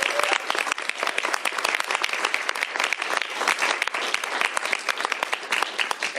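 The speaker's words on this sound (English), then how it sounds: "Please give her a big round of applause" Steady round of applause from an audience at a governor's bill signing, dense sustained clapping lasting throughout without pause, with no speech over it.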